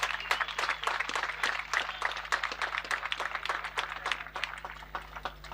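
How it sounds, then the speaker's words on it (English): Round of applause from the crowd at the closing of a Central-South Africa qualifier tournament, many hands clapping in a steady, moderately distant patter with a low hum underneath. "Please could you give a round of applause for all the sponsors."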